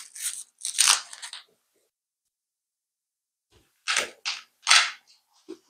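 Velcro strap on a back brace being pulled apart and pressed down, heard as several close, sharp tearing rips in two bursts separated by a pause of silence.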